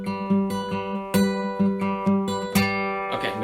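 Fingerstyle acoustic guitar plays part of the verse of a song, plucked notes ringing in a steady pattern of accented strikes with sustained tones between, close and moderately quiet, no voices.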